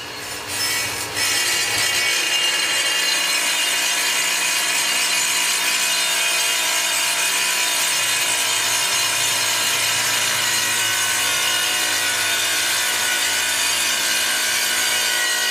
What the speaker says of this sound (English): it's time to start laying out and cutting your granite tiles